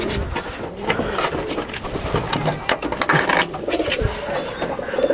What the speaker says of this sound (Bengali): এখন কবুতরগুলো ছেড়ে দেবো।